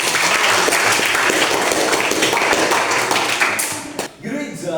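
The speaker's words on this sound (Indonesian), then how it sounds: "Oke, tepuk tangan untuk kalian." Students in an eighth-grade Catholic religion class in Merauke burst into sustained, dense applause that fades and breaks off near the end.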